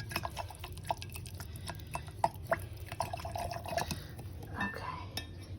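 A spoon clinks and scrapes against a container while stirring salt into water, with irregular taps and soft watery swishes throughout, fairly close.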